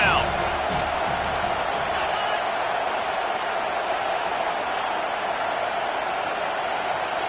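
A stadium crowd at a college football game between LSU and Miami roars for the defense on third down, a broad sustained wall of cheering and whooping that holds loud and steady throughout.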